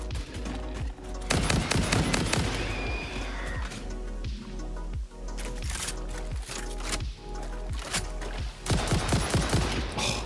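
A weapon in Satisfactory fires as a steady run of close, punchy shots with a regular rhythm over most of the stretch, above a constant low game background hum.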